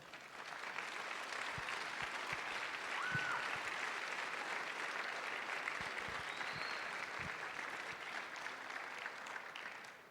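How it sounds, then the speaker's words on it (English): An audience at a high school Veterans Day assembly claps in sustained, even applause filling a large room, steady throughout with no talk. "Give him applause."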